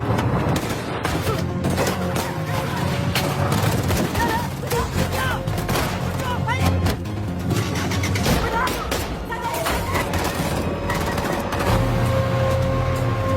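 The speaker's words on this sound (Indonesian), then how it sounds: "anak buah Johan malah melakukan tembakan" Bursts of gunfire crackle repeatedly over a dense, loud action soundtrack with rumbling and crashes, rapid shots scattered across the whole stretch.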